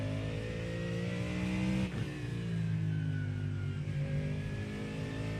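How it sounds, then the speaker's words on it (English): A Corvette GT3 race car engine idling in the iRacing sim: a steady, deep, throbbing drone with a slight dip in pitch partway through, continuous and fairly loud, no one talking. "I really think it could sound more like the idle sound in the vet"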